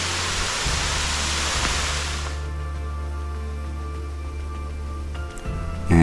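A forest river waterfall on the Cabot Trail in Nova Scotia roars as a loud, dense hiss for about two seconds, then cuts away to a quieter background hum.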